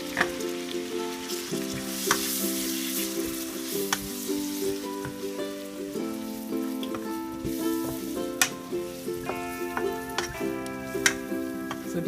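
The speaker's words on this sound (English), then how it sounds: "I fry for a few minutes, then I add my" Ground melon seeds for egusi soup fry in a pot with a soft, continuous sizzle, joined by a tonal hum and scattered light clicks and taps of stirring, with no one talking.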